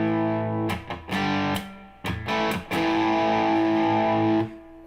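A Telecaster electric guitar through a Wampler Euphoria distortion pedal plays several chords with short, choppy stabs, then rings out in a sustained, gritty chord before cutting off.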